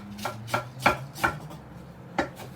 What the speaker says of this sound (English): So I'm gonna chop some cabbage also.